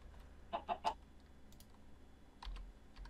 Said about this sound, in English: just some kind of chicken farm